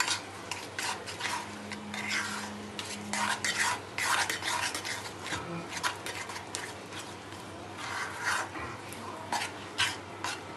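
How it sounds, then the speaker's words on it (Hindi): A cashew dessert mixture being stirred briskly in a utensil, with rapid rhythmic scraping and light metallic clinks, close by, and a voice faintly in the background. "हम इसको मिक्स करेंगे अच्छे से और जल्दी जल्दी।"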